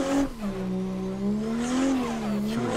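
Toyota Supra lapping Evergreen Raceway in Assetto Corsa, heard from the cockpit: a loud engine drone that dips, climbs and drops again through gear changes, with a brief tire squeal.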